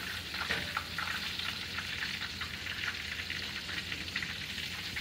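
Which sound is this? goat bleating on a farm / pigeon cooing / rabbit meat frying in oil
rabbit meat frying in oil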